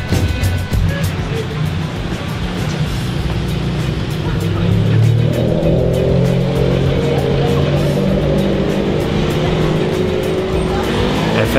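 A sports car drives past on a Monaco street, a sustained engine roar that builds and swells through the second half with faint clicks and street noise around it, nearby and prominent.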